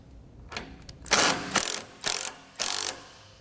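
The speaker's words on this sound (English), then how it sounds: "with all the hardware in place, we can go ahead and tighten up our hardware" A ratchet tightens mounting bolts on an Aries Pro Series grille guard, giving a few light clicks and then four loud, evenly spaced bursts of rapid clicking, close up with no talking.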